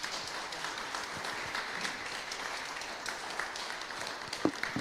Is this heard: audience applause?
yes